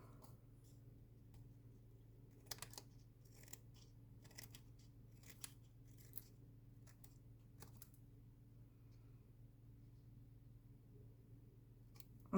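Paper scraps being cut with scissors for a handmade card, a run of soft, close snips coming in irregular clusters over a steady low background hum, with no voices.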